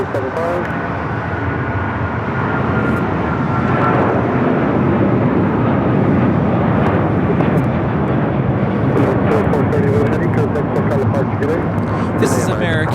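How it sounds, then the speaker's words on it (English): An American Airlines Boeing 777-200ER bound for Miami takes off at Los Angeles LAX, its jet engines a loud, steady broadband roar that builds slightly and holds, with people talking over it. "2431 taking off to Miami, Florida on the 777-200ER"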